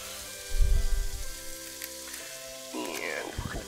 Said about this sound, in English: get that frying up in there too